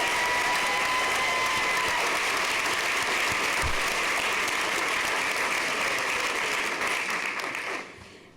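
A school board meeting audience applauding two elementary schools' A+ Excellence Award, dense sustained clapping from a room of people that holds steady for several seconds, then fades out near the end.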